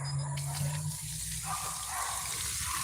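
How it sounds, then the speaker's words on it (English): Water pours steadily from a hose onto a vegetable garden with pea plants in hot Mississippi weather, a continuous gushing splash running the whole length at low volume. "So since I'm out here, I'm gonna water a little bit."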